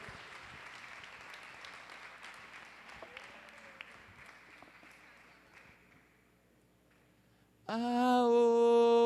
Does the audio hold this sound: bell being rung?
no